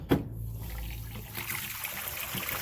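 Dirty water from a hot water extraction carpet cleaner on commercial carpet, splashing and trickling close by, with an initial gurgling rush and then a steady running, dribbling flow.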